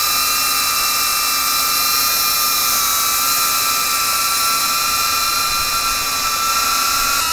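A DJI Avata drone fitted with AFOIS low noise propellers flies overhead, giving a steady, loud, continuous high-pitched whine with sustained tonal hum and no speech.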